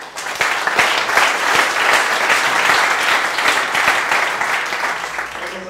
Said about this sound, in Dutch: Eerst een applaus voor Brett.